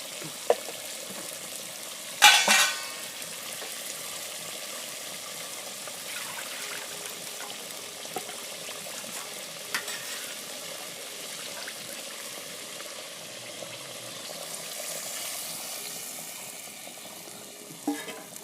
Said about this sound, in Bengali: আলুটা ভেজে রেখেছিলাম চাল কুমড়োটাও একসাথে এখনই দিয়ে দেব পরিমাণ মতন একটু জল দিয়ে দেবো